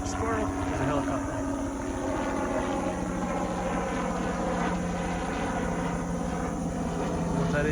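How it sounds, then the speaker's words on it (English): Over a cattle farm, a helicopter passes overhead with a constant, loud rotor thumping and droning engine tone, with a voice speaking on top of the noise. "There's a helicopter."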